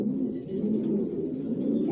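A racing pigeon gives soft, low cooing in a steady murmur, faint and close, with no other sounds over it.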